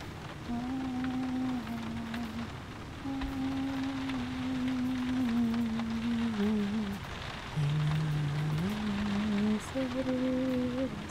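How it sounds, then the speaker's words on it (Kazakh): Steady rain patters in the background, with occasional drips standing out, while a voice talks over it. "Бұл жаңбырдың қашан басылды дей."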